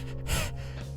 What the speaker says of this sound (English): He's panting!